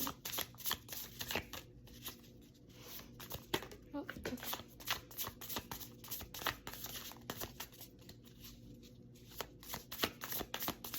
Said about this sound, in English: I know some people like to see the actual shuffling on screen.